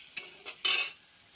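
Chopped onion frying in a pan as a spoon stirs it, three quick scraping strokes with sizzle, the last one longest, close and fairly loud.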